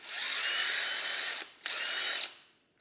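DeWalt DCD996 cordless drill whirring at full trigger in its second speed mode, a loud steady high-pitched motor whine that cuts out briefly, spins up again for under a second, then winds down to silence.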